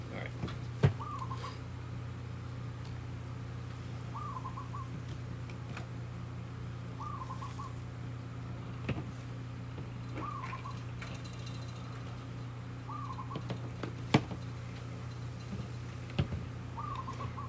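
Outdoor birds in Maui call faintly and repeatedly at a distance, short chirps recurring every couple of seconds over a steady low hum and scattered ticks.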